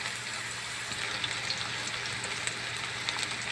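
Onion frying in hot oil gives a steady, quiet sizzle with soft crackles and occasional pops throughout, no voices.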